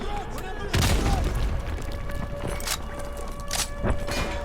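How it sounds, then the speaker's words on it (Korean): A grenade goes off close by in Call of Duty: Modern Warfare 2 Remastered, a single loud boom followed by gunfire and clatter. Game voices talk over the action. "수류탄."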